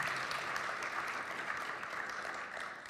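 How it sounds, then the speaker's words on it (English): Sustained applause from an audience at an atheist–Christian debate, a steady wash of clapping filling the room at even loudness without pause. "Why don't we give both of these gentlemen a big round of applause."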